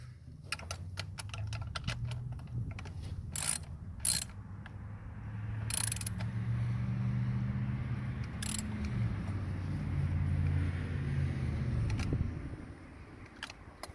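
A ratchet wrench carefully tightens a nut during coil pack replacement on a 2005 Dodge Dakota V6 or V8 engine, giving a few sharp clicking bursts over a steady low mechanical hum, close by with no talking.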